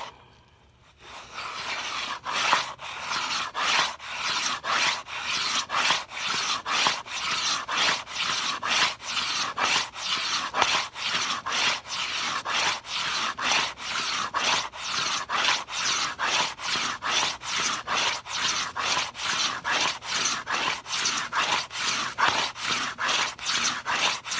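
Rapid, rhythmic rasping strokes of a blade shaving wood while shaping guitar back braces, repeating steadily and close up for over twenty seconds with no talk.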